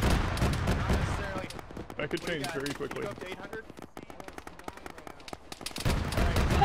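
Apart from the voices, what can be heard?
gunfire in video game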